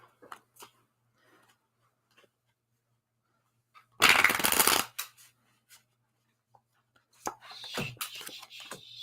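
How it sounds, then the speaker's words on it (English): A deck of cards shuffled, with scattered light clicks and taps, then a burst of riffling, followed by more card handling and faint rustling, close and alone. "Shuffling out those cards."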